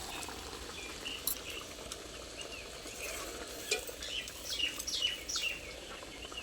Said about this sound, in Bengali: শুধু সিদ্ধ হওয়ার জন্য খুন্তিটা একটু দিয়ে দিই।